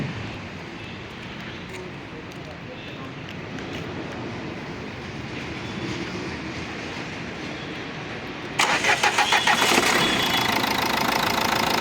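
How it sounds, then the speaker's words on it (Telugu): A 2017 Nissan Terreno's engine turns over after a stretch of quiet background hum, then catches and settles into a close, steady idle with a rhythmic pulsing clatter. "స్టార్ట్ చేస్తున్న ఇంజిన్ చూడండి."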